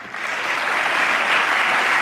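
An audience claps in a dense, steady patter of applause that holds at a fairly loud level for a couple of seconds with no voices over it.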